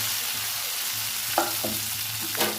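Leftover idlis with red chili masala fry quietly in a pan, a soft steady sizzle with two brief scraping stirs.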